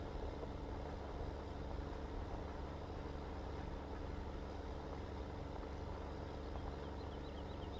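A tractor pulling a plough across a field in Farming Simulator 15 drones steadily with a low, constant engine rumble, loud and close, with no breaks and no voices.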